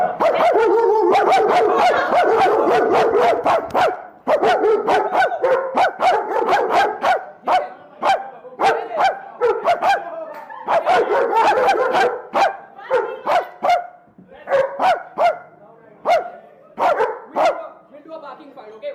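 A dog barks repeatedly in loud, close bursts, with a person barking back at it in imitation, trading rapid back-and-forth barks in a playful bark-off.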